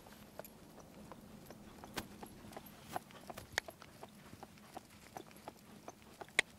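A horse moves in a circle on a farm, its hooves making a steady clip-clop of soft, evenly spaced footfalls at moderate distance over a quiet ambient hum, with no one speaking.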